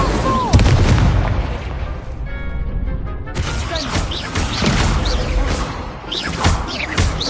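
The Incendio fire spell cast in the action game Hogwarts Legacy bursts out loudly with booming, crashing impacts, followed by further thuds and blasts of combat in a busy, dense mix.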